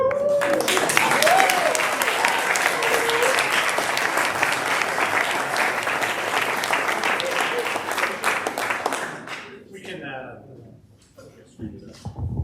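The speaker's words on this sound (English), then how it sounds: "We can give John one more big round of applause for that." Loud applause from a sizable audience, steady clapping for about nine seconds before it fades, with a voice speaking over the tail end.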